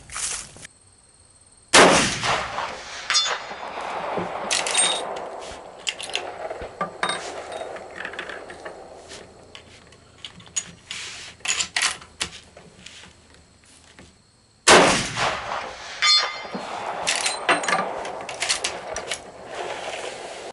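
Rifle shots from a .338 Lapua and a .45-70 fired outdoors in a metal penetration test: two sharp, loud reports about thirteen seconds apart, each followed by clattering, mechanical handling noise and ringing.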